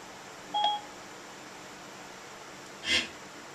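Two short, clean electronic beeps, about two seconds apart, from a car radio switching into phone mode in a 1961 Chevy Impala, over a faint steady hiss.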